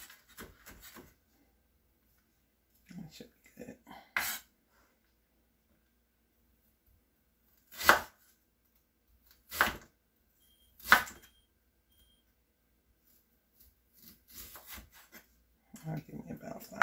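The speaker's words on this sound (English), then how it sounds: "let's go ahead and get the garlic chopped up" A knife chops garlic on a board, delivering a few loud, sharp chops spaced a second or two apart, with quiet stretches between them and faint handling noise.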